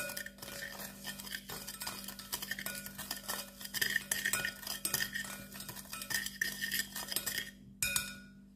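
A spoon stirs a beignet mixture with added sugar in a bowl, scraping and clinking against the sides in a quick, uneven rhythm. It is close but quiet, with a short pause near the end, and no one speaks.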